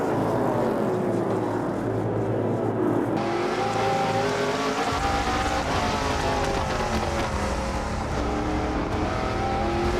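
NASCAR race cars roar past at Autodrome Chaudière during a 300-lap race, loud layered engine whine rising and falling continuously as the cars pass.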